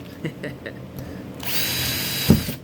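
A power drill whirs up loudly and runs steadily for about a second, ending with a sharp clunk, after some quieter handling noises, while drilling a rivet hole in a half-moon solar screen.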